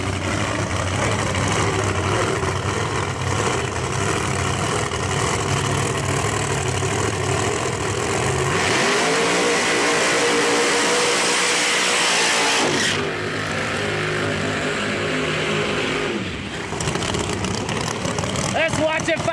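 Pro Mod drag race cars at Darlington Dragway run on nitrous oxide, their engines a sustained loud roar that shifts in pitch as they launch and pull away, with a commentator talking over the noise.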